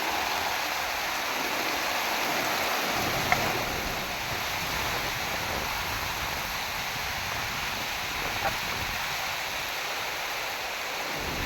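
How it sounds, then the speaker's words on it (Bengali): Torrential rain pours down outside during a storm, heard from a ground floor as a dense, steady roaring hiss that stays level throughout with no talking. "মুষলধারে বৃষ্টি আরম্ভ হয়ে গেছে"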